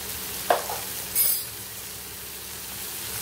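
Mushroom butter roast seasoned with white pepper is stirred in a pan, giving a sharp spoon clink followed by a brief scrape over a faint low sizzle.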